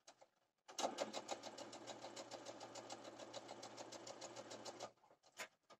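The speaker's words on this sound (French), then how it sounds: "Et je continue de coudre jusqu'au bout." A sewing machine stitching a rolled hem on knit fabric runs in one steady, rapid mechanical chatter for about four seconds, close and alone, with a few brief clicks before and after.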